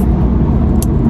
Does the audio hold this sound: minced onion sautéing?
no